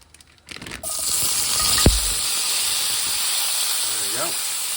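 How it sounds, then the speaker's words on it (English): Vegetables hitting hot oil in a pan while cooking a fish and vegetable coconut curry, a sharp crackle followed by a steady loud sizzling hiss that holds throughout, with brief clattering at the start. "our next thing we're going to do is we're going to toss some vegetables into here"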